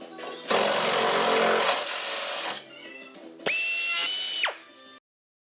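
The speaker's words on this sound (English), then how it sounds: "what we're going to do is drill this, the back of the fender, big enough to facilitate for the button going right through there" A power drill bores through the back of a Subaru car fender in two loud bursts of whirring, rasping metalwork separated by a quieter pause, ending with a high whine that spins down.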